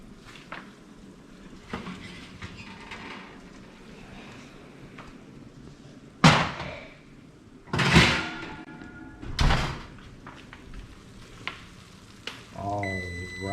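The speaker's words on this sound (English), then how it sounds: "We're gonna open up this oven, see what we got." An oven door swings open after a pork butt has slow-roasted for five hours, a few heavy creaks and thumps rising out of a low background hiss, followed by a short clatter at the end.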